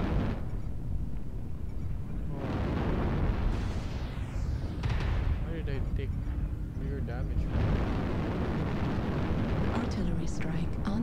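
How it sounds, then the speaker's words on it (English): Artillery strike explosions in the MechWarrior video game, heavy rumbling booms and bursts rolling continuously under loud game effects, with a voice speaking over the din. "Artillery strike online."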